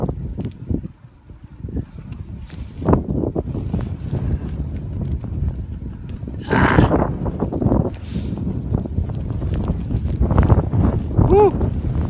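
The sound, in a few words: strong wind during a blizzard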